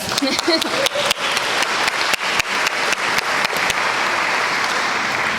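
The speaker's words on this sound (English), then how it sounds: "Let's give them a round of applause." Enthusiastic applause from a conference crowd, steady dense clapping with a few sharp individual claps standing out, continuing throughout.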